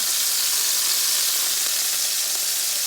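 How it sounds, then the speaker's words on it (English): Hamburger patties searing in a frying pan for Southern-style hamburger steak, a loud, steady, bright sizzle of hot fat that continues unbroken until cutting off abruptly at the end, close up with no voices. "I flipped the burgers, and you can see that nice sear"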